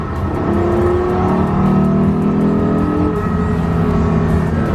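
A Porsche Carrera GT engine revs loudly and close, its high-pitched drone rising and holding steady throughout with no voices.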